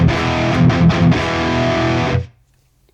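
A loud, dense wash of distorted overdrive sound from a mixing session, with a few rhythmic swells, cuts off abruptly into silence near the end and then starts briefly again.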